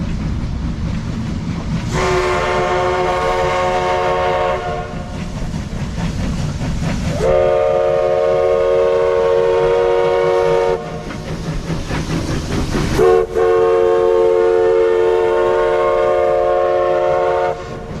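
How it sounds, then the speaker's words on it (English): A train in Spearfish Canyon passes close by and sounds its horn three times in long, loud blasts, with the heavy rumble of the rail cars rolling underneath. "we went and did some video of the train coming by"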